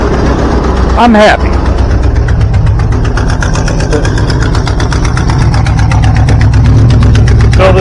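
An old 1986 Ford Holiday Rambler motorhome engine idles while warming up, a loud, steady, close rumble running throughout with a brief voice over it.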